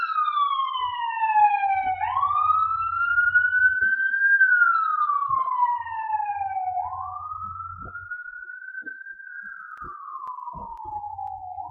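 A police siren wails in long rising and falling sweeps, loud and steady throughout, with faint low rumbles underneath and no talking.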